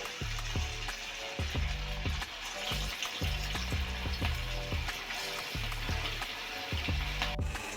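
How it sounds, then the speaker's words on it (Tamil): Chicken kebab pieces fry in hot oil in a kadai, a steady loud crackling sizzle with repeated low thumps and scrapes throughout, no talking. "இந்த கடாயில் எண்ணெய் வச்சுக்கோங்க, கபாப் போட்டுடலாங்க."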